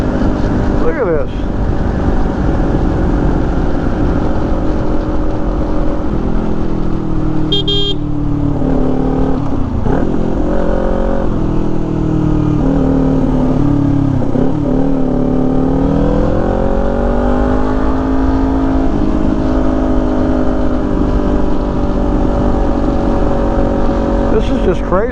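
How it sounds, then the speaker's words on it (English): Loud steady engine roar from motorcycles riding past on a mountain parkway, with rising and falling revs and a talking voice over the continuous drone. "Lots of bikes."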